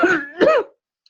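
A single person clears their throat and gives a short cough, two close raspy bursts, near and fairly loud, because of a tickle in the throat, then near silence.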